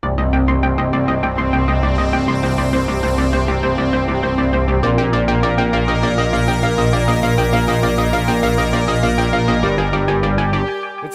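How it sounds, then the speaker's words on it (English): A dark, cinematic synth track built on a Native Instruments Maschine plays loud and full, with a fast arpeggio over a sustained pad and deep pulsing bass that shifts chords midway and stops abruptly at the end. "if you start adding the pad and the bass back in"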